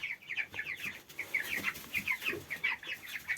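Broiler chicks in a warm brooder with hay on the floor, eating and drinking while keeping up a steady run of soft, high peeping and clucking calls, close by and continuous.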